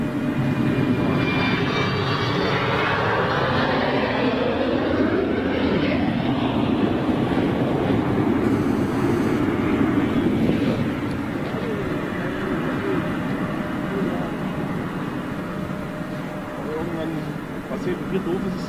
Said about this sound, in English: She should rotate. It's a Stoll aircraft. She should go up early.